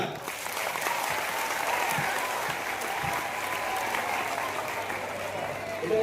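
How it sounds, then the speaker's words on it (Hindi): A crowd gives sustained, dense applause at a road-safety helmet event, steady and loud throughout with no break. "जोरदार तालियां।"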